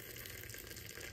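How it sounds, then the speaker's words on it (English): Hot water pours steadily into a cup of hibiscus tea in an apartment kitchen on Isla Holbox, Mexico, a soft, even, continuous stream heard alone. "Add some hot water."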